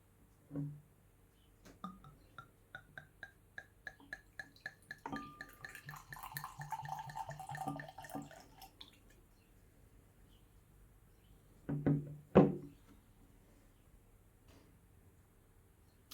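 Wine poured from a bottle at a vineyard: a soft knock, then a quick run of regular glugging ticks that blends into a gurgling trickle, followed by a couple of light clunks, faint and close with no talk.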